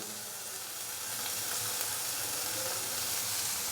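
Chopped green chillies and coriander hit a hot pan of garlic, giving a steady, loud broadband sizzle that swells slightly after the first second and holds continuously, with no talking.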